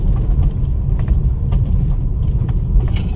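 A car engine rumbles steadily at close range as the vehicle is parked near a temple being readied for the Kunkeshwar fair, with light rattling above the low drone and no talk.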